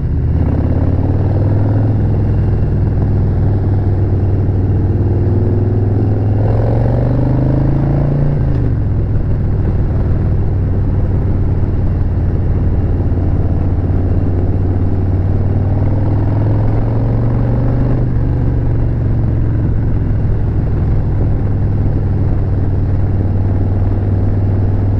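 A car cruises along back roads on a test ride, its engine humming steadily and close, with pitch rising and settling as it accelerates and shifts, continuous road noise underneath and no talking.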